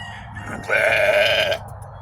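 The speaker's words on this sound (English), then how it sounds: "the sheep beside and behind us are all very concerned about what's going on" A sheep gives one loud, drawn-out bleat lasting nearly a second from a farm pen during a lamb weigh-in, rising out of low background noise with no talking.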